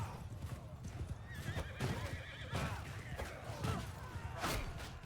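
Horses in the Mount and Blade 2 Bannerlord battle galloping with rapid hoof clatter while several loud neighs and whinnies ring out close, over a busy battlefield din with some talk.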